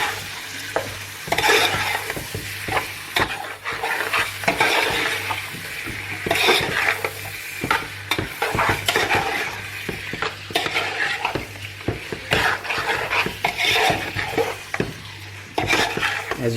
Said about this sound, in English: Okay, I'm going to mix all this together.